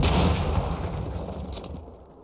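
Explosions boom as a house is blown up in the video game PUBG, a loud rumbling blast that decays over about two seconds with no talk.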